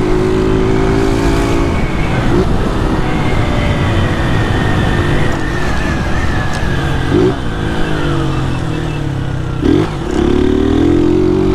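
A motorcycle fitted with a loud tin exhaust rides steadily and close, its engine droning with rising and falling revs and brief throttle blips, without talk.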